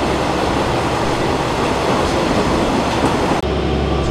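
A KiHa 120 series diesel local railcar runs toward Bingo-Ochiai, giving a steady, loud interior rumble of engine and wheels with no voices, until the noise shifts abruptly near the end.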